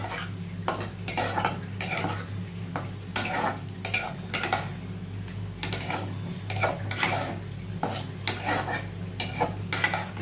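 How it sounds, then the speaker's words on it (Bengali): Spiced masala and paneer being stirred and sautéed in a pan, with repeated scraping and clinking of a utensil against metal in an irregular rhythm over a steady low hum, close and fairly loud. "ভালো করে পনিরের মধ্যে মশলাটা দু তিন মিনিট কষিয়ে নিতে হবে"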